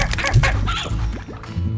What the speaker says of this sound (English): there's actually more hens that have spawned in as well